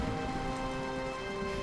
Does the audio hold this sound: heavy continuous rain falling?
yes